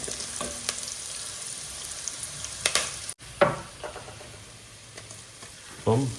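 Curry leaves fry in a pan over a low flame for a traditional mango curry, with a soft steady sizzle, occasional stirring scrapes and clinks, and a few louder knocks.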